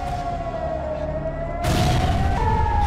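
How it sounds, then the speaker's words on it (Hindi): Air raid sirens wailing in Haifa, Israel, a steady sustained tone that shifts pitch slightly, joined partway through by a louder burst of broadband noise. "ये वीडियो इजराइल के हाइफा शहर का है, जहां सुबह 5 बजे अचानक सायरन बज उठे।"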